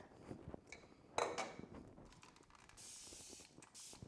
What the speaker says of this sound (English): spray my cup.